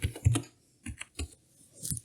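Short bursts of clicky key presses on a computer keyboard as a search term is typed into an effects search field in DaVinci Resolve, close and distinct, with brief pauses between.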